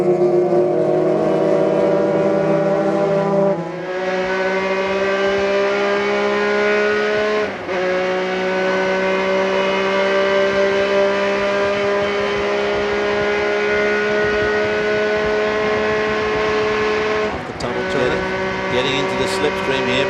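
Grand-Am race cars run nose to tail and draft each other toward a braking zone at the 2000 Paul Revere 250. Sustained loud engine drones sit close, with brief dips as gears shift, and a commentator talks over them.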